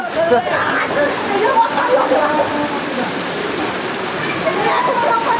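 Steady, dense heavy rainfall pours down continuously during Ganesh Puja in Ichhapur, with a busy wash of water noise and faint voices mixed into the background.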